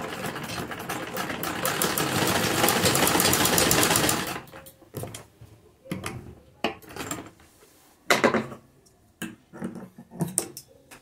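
A sewing machine stitches a pink fabric sleeve in a steady rapid run for about four seconds, followed by scattered short bursts and handling noises, close and fairly quiet.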